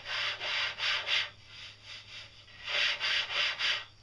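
Hand or pad rubbing across lacquered wood, first a finished smooth surface then an unfinished rough one, giving soft, hissy back-and-forth strokes in steady rhythm, fairly quiet and close, with a short lull between the two surfaces.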